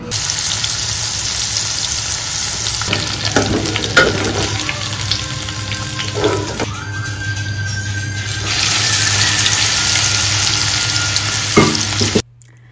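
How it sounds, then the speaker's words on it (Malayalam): Onions sautéing in oil left over from frying prawns, a steady close sizzle with occasional stirring scrapes and a faint tap-like gush in the background, no talking. "പിന്നെ ആ എണ്ണയിൽ തന്നെ സവാളത് വാട്ടിയെടുക്കാമല്ലോ"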